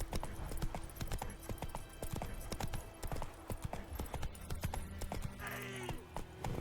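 Horse hooves galloping in The Witcher 3 video game, rapid loud clip-clop beats in a steady rhythm, close and continuous, with a brief whinny near the end and no talking.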